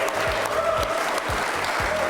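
Steady studio audience applause on a quiz show, dense and continuous clapping that fills the space at an even level throughout.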